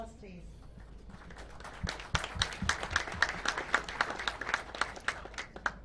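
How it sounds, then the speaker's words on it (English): Audience applause at the Africa Climate Summit session, rising after a quiet start into a dense spatter of sharp individual claps in a large hall, with speech faintly underneath at first. "A round of applause, please."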